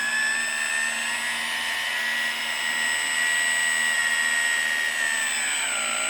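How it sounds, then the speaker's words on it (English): Electric hydraulic pump whining steadily as it raises the multi-stage cylinder on a 1/14 Tamiya Grand Hauler RC tri-drive dump truck, a close, continuous high-pitched motor drone that shifts pitch near the end. "Now we'll raise the box up. Now this is a multi-stage cylinder."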